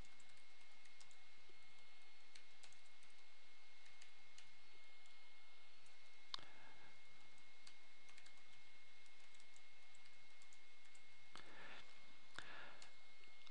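Typing on a computer keyboard while entering book citation details, producing faint, scattered key clicks and taps across a quiet room with low background hum.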